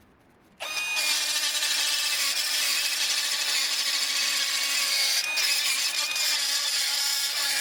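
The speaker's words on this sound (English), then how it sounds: "Is that a die grinder? I think it's a die grinder." A high-pitched die grinder whirs steadily after a brief quiet start, a continuous close grinding whine with no pauses.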